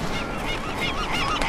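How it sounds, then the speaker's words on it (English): A flock of birds in Deus Ex: Mankind Divided honks without pause, loud, dense goose-like calls overlapping throughout with no talking. "Get out of here, birds."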